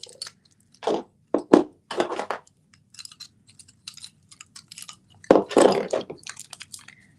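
Divination bones are spread out for bone throwing, making several short bursts of dry clattering and rattling, close and fairly loud, separated by brief quiet pauses.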